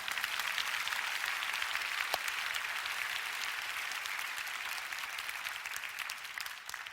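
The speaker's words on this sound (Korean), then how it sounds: "지금 여러분 박수 쳐주셨잖아요." A church congregation applauds loudly and steadily for the whole stretch, dense clapping that fades slightly toward the end, with no talking.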